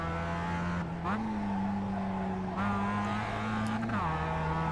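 Mazda race car engine in iRacing at Summit Point, a loud steady onboard drone that rises and dips with quick gear shifts, running without a break.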